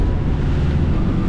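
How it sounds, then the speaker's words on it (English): A motorboat engine runs hard at speed, around 25 knots, making a steady, loud roar mixed with rushing wind and water noise and no break for its whole length. "That same engine feels meaty"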